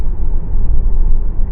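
Steady low road rumble from inside a moving car, continuous and fairly loud with no voices, as the vehicle drives along.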